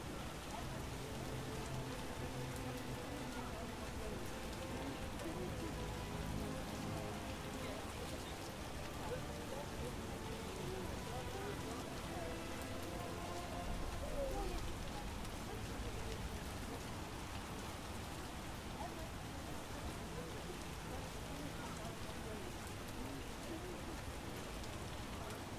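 Steady rain falls outside, a continuous hiss of drops on surfaces that runs unbroken at an even level for the whole stretch, with a faint low rumble underneath.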